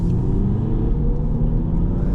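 A 2011 Audi A3 TDI diesel pulls away and picks up speed, its engine a steady low rumble heard from close by, loud and even throughout with no talking.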